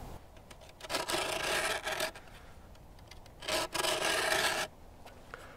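A freshly sharpened hand saw makes test cuts into wood: two bursts of rasping strokes, each about a second long, with a short pause between them. They sound close, loud and clear, and no one speaks.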